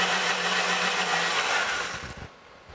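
An electric mixer whirs loudly and steadily while mixing icebox cake filling, then winds down and stops with a few soft knocks near the end.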